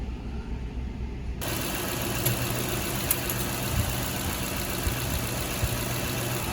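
A 2000 Lexus LX470 engine idles with a steady low rumble and a few small clicks and knocks, continuous and fairly close.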